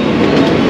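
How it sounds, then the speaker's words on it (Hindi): A Mumbai local train runs close by with a loud, continuous rumble and rattle of carriages. "ये देख सकते हैं मुंबई की लाइफ लाइन कही जाने वाली लोकल ट्रेन"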